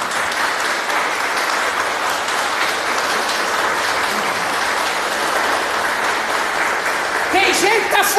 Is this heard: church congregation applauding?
yes